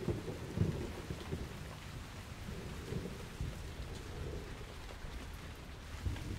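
Steady rain pours through a Japanese forest in the rainy season, with low rolling thunder rumbling beneath the constant hiss of falling drops, heard close and without voices.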